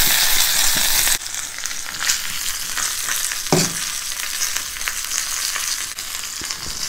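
Dried red chili, curry leaves and asafoetida fry in hot oil with a loud, bright crackle and sputter that settles into a steady sizzle, broken by a few sharp pops and spoon knocks.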